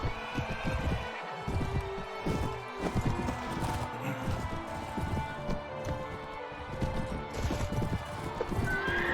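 Horse hooves pounding in a gallop with repeated neighs and whinnies, from the video game Mount & Blade: Warband, loud and close with combat clatter throughout.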